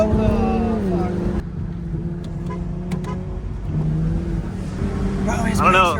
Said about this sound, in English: Okay, this car handles really good now.